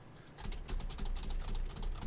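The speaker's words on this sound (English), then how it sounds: "the vibration of the mic of the typing gets picked up in the microphone" Fast typing on a computer keyboard, carried into a microphone mounted on the same desk. The key clicks come quick and irregular with dull thumps underneath, fairly close and moderately quiet, with no talking.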